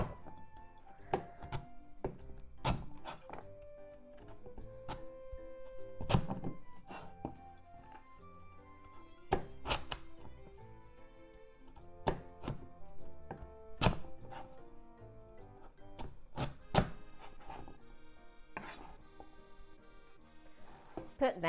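Kabocha squash being cut with a knife, first halved and then sliced; a series of sharp, irregular thunks of the blade striking the board, close and distinct against a quiet background.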